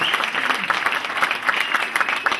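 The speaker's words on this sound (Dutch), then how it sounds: "Ja, geef een wat applaus." Brief burst of audience applause at a Dutch talent-style show, steady clapping from a modest crowd, fairly close and without talk over it.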